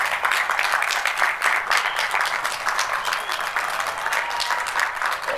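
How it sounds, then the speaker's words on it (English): Steady, fairly loud applause from an audience for school staff at an academy completion ceremony, continuous dense clapping lasting throughout without a break. "Can we get a round of applause for this staff?"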